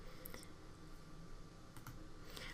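Someone types on a computer keyboard, giving a few soft, scattered key clicks that sound faint and close, with no talking.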